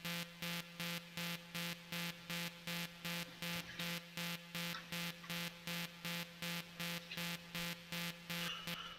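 Harmony booster synth in a happy hardcore style remix, without the bassline, playing a steady run of evenly spaced pulsing chords with a sustained low drone underneath, at a quiet level with no voices.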